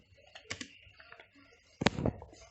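Keys are typed on a computer keyboard, heard as quiet scattered clicks followed by a louder, close cluster of keystrokes near the end, with no voices.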